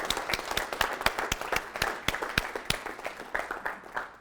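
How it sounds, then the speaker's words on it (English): An audience at a university lecture event applauds, a steady run of distinct hand claps that stays fairly even in loudness from start to finish with no voices over it. "Can we have a round of applause for them?"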